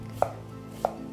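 Two sharp knife chops on a cutting board through an onion, spaced about half a second apart, close and clear over a quiet kitchen background, no voices.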